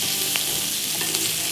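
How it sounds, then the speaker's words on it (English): Asparagus and pancetta sautéing in melted butter in a pan, a loud, dense, continuous sizzle with a couple of brief stirring clinks, close and without talk. "We're just gonna let this saute for about 3 to 4 minutes."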